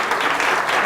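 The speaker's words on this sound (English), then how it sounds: "Give him a round of applause." A live audience at a morning talk event claps in a short, dense burst of applause, loud and close.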